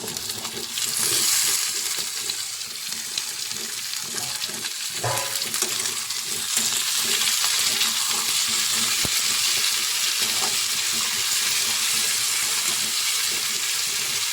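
Tomatoes cooking in hot oil in a pan for egg curry, giving a loud, continuous sizzle with an occasional stir or scrape.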